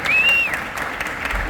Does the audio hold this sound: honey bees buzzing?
no